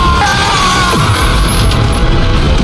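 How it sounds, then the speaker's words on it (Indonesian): A man in the animated series Renegade Immortal screams in regret. The loud, sustained yell carries over a dense, roaring soundtrack and effects bed throughout. "Ia pun hanya bisa berteriak penuh penyesalan"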